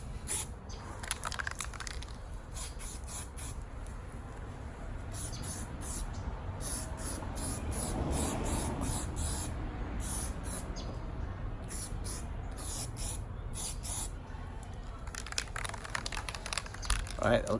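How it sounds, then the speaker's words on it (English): Spray primer applied to a Bentley front bumper, rapid bursts of aerosol hiss in short on-off pulses, close and fairly quiet, with someone talking over parts of it. "So here we go with the primer."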